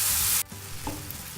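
Tomatoes cooking down in a pan for tamarind rice: a loud burst of hiss cuts off abruptly, leaving a lower steady sizzle with a brief scrape of stirring, no voices.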